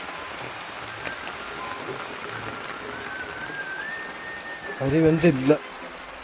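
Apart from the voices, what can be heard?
rain falling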